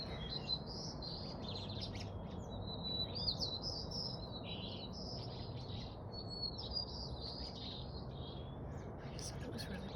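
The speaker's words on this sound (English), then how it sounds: "the birds started singing." Evening birdsong outdoors: repeated high chirps and whistled phrases from birds at a moderate distance, continuing steadily over a soft, constant background hum.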